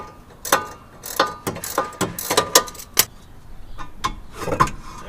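Ratchet wrench breaking a bolt loose on a car during brake work, sharp close metallic clicks and clanks arriving in irregular bursts with short gaps between them.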